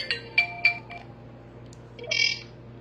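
A mobile phone rings for an incoming call, a few short bright electronic tones followed by a longer chiming burst, moderately close in a quiet room with a low hum behind.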